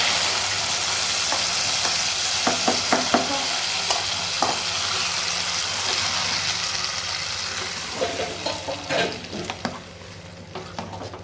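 Cashews and raisins fry in a pan with a steady broadband sizzle, while irregular scraping and stirring clicks come through clearly, denser near the start and the end, with no talking.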